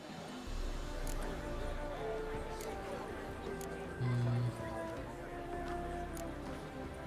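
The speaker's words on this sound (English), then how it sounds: "घोड़े की रेस है दोस्तों" Horses galloping in a race in The Witcher 3: Wild Hunt, a steady low drumming of hooves running under game dialogue and music, with a brief louder thump midway.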